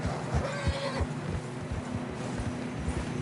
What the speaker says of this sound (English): Horses were struggling.